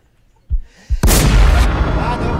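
Loud game gunfire in an online shooter: two sharp reports followed by a sustained, dense burst of automatic fire close up.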